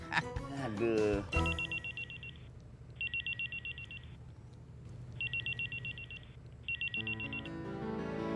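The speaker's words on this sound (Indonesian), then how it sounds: "Ibu bos yang telepon bos." A telephone rings in four repeated trilling bursts with short gaps between them, clear and fairly close. Voices talk briefly before the first ring and again as the last one sounds.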